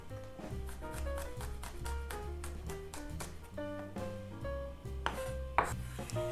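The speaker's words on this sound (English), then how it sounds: "we're going to mince the garlic and cut the beef brisket" A knife chops rhythmically on a board, mincing garlic and cutting beef brisket for Korean seaweed soup, with steady close taps under prominent background music.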